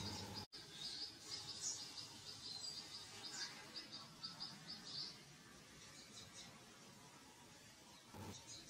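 Forest birds chirp and trill in quick repeated high bursts over a faint insect hum, fairly quiet and at moderate distance.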